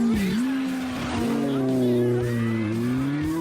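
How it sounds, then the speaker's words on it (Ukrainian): A motorbike engine revving hard and accelerating with a rising, sustained whine, loud and close, while people talk over it. "наш герой дуже сильно тисне на газ"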